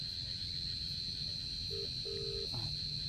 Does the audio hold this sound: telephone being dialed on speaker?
yes